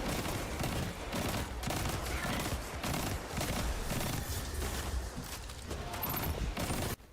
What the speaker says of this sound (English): Gun go burr for sure.